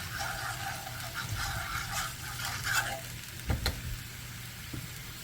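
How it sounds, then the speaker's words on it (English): Water with vegetable bouillon concentrate hits a hot pan, giving a steady hiss and sizzle with a couple of sharp clinks of a utensil against the pan. "I'm adding the 1/3 cup of water with the vegetable better than bouillon."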